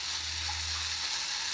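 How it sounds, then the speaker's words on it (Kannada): Tomato and onion frying in oil for chole, a steady soft sizzle with broad hiss held at an even level throughout, close and continuous with no voices. "ಇವಾಗ ಈ ಥರ ಟೊಮೆಟೊ ಅದನ್ನೆಲ್ಲ ಚೆನ್ನಾಗಿ ಎಣ್ಣೆಯಲ್ಲಿ ಹುರಿದ್ರೆ, ಇವಾಗ ಇದು ಫ್ರೈ ಆಗಿದೆ"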